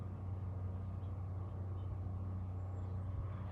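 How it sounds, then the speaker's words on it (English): Steady low engine drone of a motor running continuously beside a flooded river outdoors, a constant hum with no breaks throughout. "sound like a motor running"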